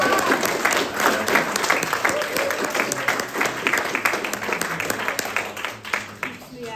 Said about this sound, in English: Can we just give Bob a round of applause?